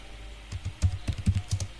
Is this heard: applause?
no